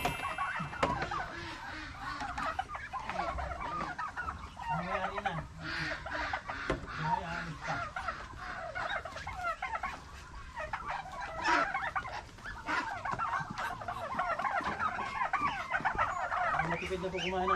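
Ducks, geese and turkeys at feeding time on a farm keeping geese and turkeys for eggs, a steady chorus of gobbling, clucking and honking close by, with people talking faintly underneath.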